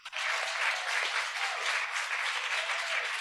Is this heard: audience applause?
yes